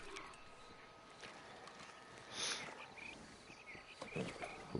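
Horse hooves clip-clopping at a walk in Red Dead Redemption 2, an open-world western game, with steady soft thuds over a night backdrop of chirping crickets and insects, fairly faint and close.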